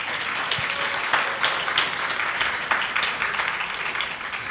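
An audience at a Korean culture-and-business forum claps steadily to welcome the host back to the stage, a dense, even applause that carries on throughout.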